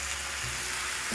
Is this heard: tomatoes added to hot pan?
yes